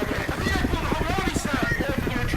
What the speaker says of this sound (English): Are you not shooting the helicopters coming in?